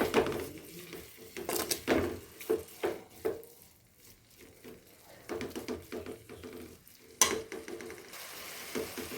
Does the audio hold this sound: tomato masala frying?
yes